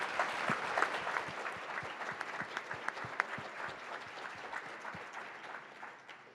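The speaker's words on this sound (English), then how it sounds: "Please join me in a warm round of applause for them all." A seated audience claps in sustained, even applause at a civic club forum, dense and moderately loud, with a few sharper individual claps standing out before it tapers off near the end.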